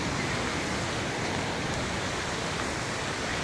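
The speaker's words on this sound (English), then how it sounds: "Here you can see beautiful waterfalls right in the pool." Waterfalls splash into a resort pool at Atlantis, Paradise Island in Nassau, Bahamas, giving a constant soft hiss of falling water, even and moderately distant, with no speech.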